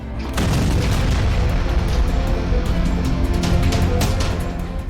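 A drone explosion at a Romanian port, heard as a sustained, loud, low rumbling boom with broadband crackle that holds steady for several seconds before easing slightly at the end.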